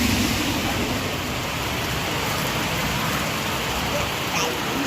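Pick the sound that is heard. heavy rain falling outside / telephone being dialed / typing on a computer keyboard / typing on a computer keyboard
heavy rain falling outside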